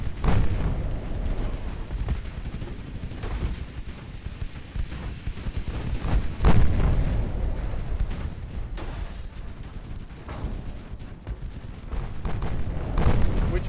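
A battleship's secondary guns fire HE shells in the Ultimate Admiral Dreadnoughts naval game, producing a continuous rumble of deep booms and overlapping blasts, with heavier thuds standing out around the middle and near the end.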